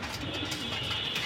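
Silver male pigeons coo softly in a steady, noisy backdrop, one brief low murmur with no voices over it.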